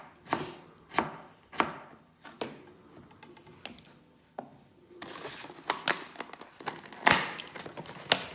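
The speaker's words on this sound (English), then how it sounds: "So I'm just cutting up a little bit of beetroot." A knife chops beetroot on a board for guinea pigs' dinner, sharp isolated thuds at first spaced about half a second apart, then quicker, denser cuts with light scraping toward the end.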